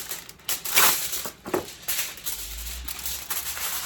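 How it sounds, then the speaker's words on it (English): Aluminum foil crinkles and crunches up close as a sheet is pulled and handled to cover chicken, in uneven bursts of rustling with short pauses. "So I'm just going to get some aluminum foil here,"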